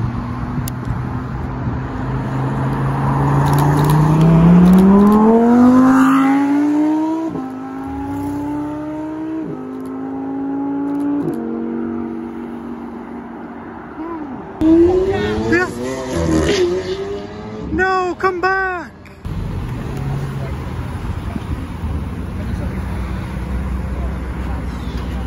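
Lamborghini Urus engine revving nearby, a loud rising growl that climbs in pitch, steps through gear changes, then gives sharp bursts of throttle blips before settling, with people talking over it.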